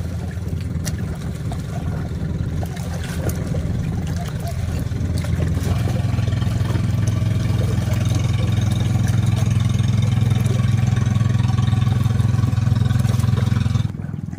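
A fishing boat engine drones at mid pitch, growing steadily louder and heavier over time as it passes, then cutting off abruptly.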